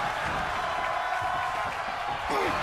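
A raucous wrestling crowd roars in a steady, dense wash of cheering at an evening event. The noise holds level throughout, with faint voices mixed into the din.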